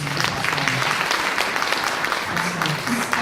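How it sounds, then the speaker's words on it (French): A conference audience applauds the speaker Abdoulaye, dense steady clapping filling the room throughout, with a voice faintly underneath. "Je vous demande d'applaudir Abdoulaye"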